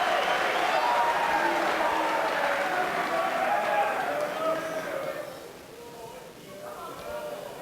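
A pool match crowd applauds, a dense burst of clapping that fades after a few seconds, with a commentator talking over it.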